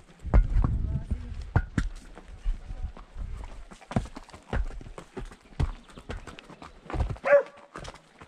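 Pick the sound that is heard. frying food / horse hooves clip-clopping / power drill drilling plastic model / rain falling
horse hooves clip-clopping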